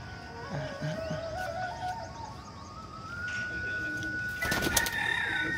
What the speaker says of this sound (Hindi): ये भाई अमित भाई के 11 कबूतर